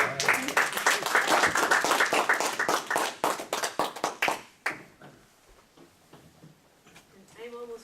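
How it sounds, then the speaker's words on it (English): Audience applause at a lecture on teaching Java: a room full of people clap with dense, steady claps for about four seconds. The clapping then thins to a few scattered claps, and a voice speaks briefly at the end. "So I think Vic deserves a round of"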